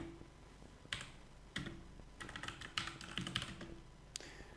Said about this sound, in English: After opening the terminal, you just have to type